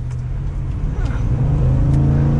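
Steady engine and exhaust drone from a 2022 Ford F-150 Lariat FX4 pickup with a 5.0L V8, heard from inside while driving, holding a constant rumble with slight rising revs and no speech.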